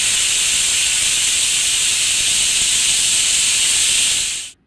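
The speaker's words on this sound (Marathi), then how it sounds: "कुकरला 3 ते 4 शिट्ट्या आपल्याला द्यायच्या आहेत." A pressure cooker of dal for puran poli vents its whistle as a loud, sustained, close steam hiss that holds steady for several seconds before cutting off abruptly.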